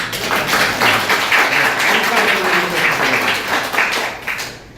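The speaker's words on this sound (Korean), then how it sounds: "박수 한번 주세요" An audience at a talk on Jecheon's cultural heritage claps together in a steady, fairly loud burst that carries evenly for a few seconds and then fades.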